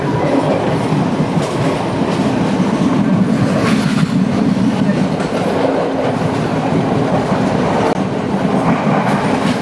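A train runs along single track on Sri Lanka's coastal line by the Indian Ocean, a loud, continuous rumble with rhythmic clickety-clack of wheels over rail joints.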